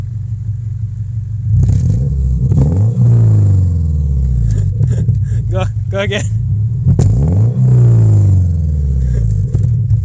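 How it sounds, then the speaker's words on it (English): A Subaru engine that blows blue smoke and is getting a compression test is revved hard twice, each run climbing and falling close up, with people talking over it. "Just give it some good revs."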